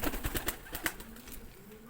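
Pigeons kept by a Pakistani breeder in Islamabad coo in a run of soft, pulsing calls close by, with a few brief wing flutters mixed in.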